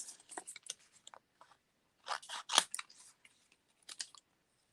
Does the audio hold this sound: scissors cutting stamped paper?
yes